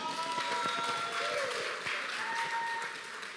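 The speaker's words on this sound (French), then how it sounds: "que je vous demande d'applaudir." Applause from an audience at a lawyers' stage show for the evening's hosts, a light wash of scattered clapping heard at a distance, with faint voices and some tonal sound mixed in.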